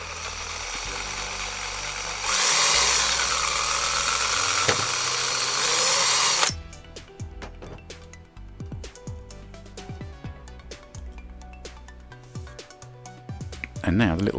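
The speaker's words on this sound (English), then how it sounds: "here's a 5mm drill bit, just to make the hole 5mm instead of 4" A power drill whines loudly and steadily for several seconds while boring a 5mm hole in a slot car part, then stops, leaving quieter clicks and handling sounds.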